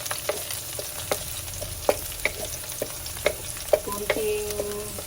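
Garlic sizzles gently in a pan while a spatula taps and scrapes against the metal in an irregular rhythm, close and moderately quiet, with no voices.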